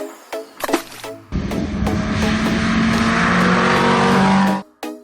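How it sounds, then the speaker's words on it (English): Toy racing car engine revs up sharply after a few clicks and knocks, holding a loud, steady whine for about three seconds before cutting off, close by with no speech. "racing car,"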